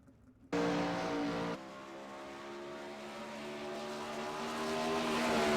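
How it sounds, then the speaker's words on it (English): Race cars circling a dirt oval in the iRacing sim, a steady loud engine drone with harmonic whine that jumps up sharply after a brief quiet start, then holds and slowly builds. "as we monitor cars that are getting out there on the racetrack for their qualifying efforts"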